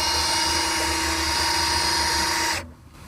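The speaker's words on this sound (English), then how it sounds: "I've got a drill motor hooked up to our oil pump." A drill motor spins the oil pump of a junkyard 1960s Pontiac T-37 engine to prime it, making a loud, steady, high whine that runs for about two and a half seconds before cutting off abruptly.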